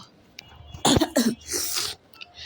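A person coughs two or three times in quick, harsh bursts with a throat-clearing rasp, close to the microphone, during a football video game session.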